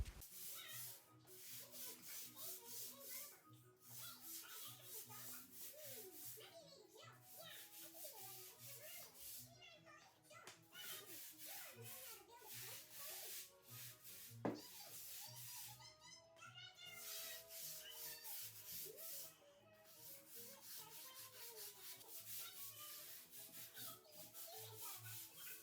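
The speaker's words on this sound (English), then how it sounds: "it's time to start scrubbing." A brush scrubs kitchen grout coated with baking soda and dish soap in quick, repeated rubbing strokes, close and fairly quiet, with occasional voices in the background.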